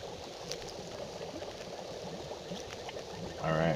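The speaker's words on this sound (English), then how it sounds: "Sounds like our water's boiling" Water bubbling and boiling in a pot over a fire in The Long Dark, a steady dense rumble of churning bubbles that holds throughout and swells slightly louder at the very end.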